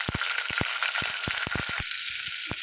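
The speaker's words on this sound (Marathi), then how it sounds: "आता यात मी बारीक चिरलेला लसूण आणि बारीक चिरलेली मिरची." Finely chopped garlic and green chili frying in hot oil with cumin seeds and bay leaves, a dense continuous sizzle broken by sharp crackles and pops, close and alone.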